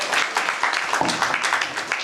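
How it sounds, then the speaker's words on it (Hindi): An audience at a company anniversary celebration in India breaks into applause, a steady wash of many hands clapping close by, with a faint voice underneath. "एक जोरदार ताली हो जाए रीमा मैम के लिए।"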